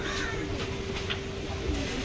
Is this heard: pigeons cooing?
yes